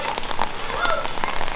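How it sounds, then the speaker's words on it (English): Rain falls on a Monday near a rice factory, an even patter of drops striking a surface with a few sharper taps, steady and moderately loud. "It's raining."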